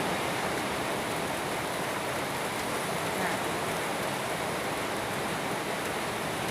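Steady morning rain in Khemarat, Ubon Ratchathani, falling straight down in calm air, a dense even hiss of drops on surfaces close by that holds constant throughout, with no voices.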